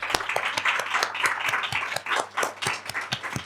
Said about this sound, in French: on va quand même applaudir comme il se doit notre invitée ce soir, qui est Célia Muller